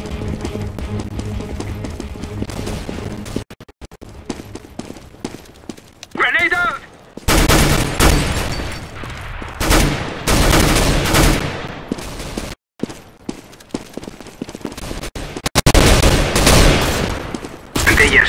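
Counter-Strike: Global Offensive gunfire comes in several loud, rapid automatic bursts separated by quieter gaps, with game sounds and a player's voice between the volleys.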